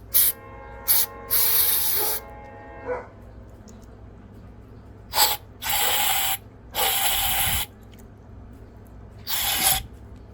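Cleaner hisses out of an aerosol can in several bursts of one to two seconds, close up, aimed into the carburetor tube of a Craftsman lawnmower that will not start. Short pauses separate the sprays.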